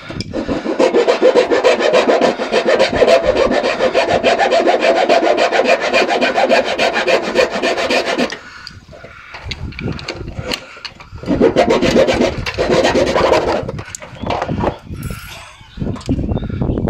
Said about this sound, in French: Je vais couper ce truc de merde parce que je suis en train de plier toute ma tôle pour rien.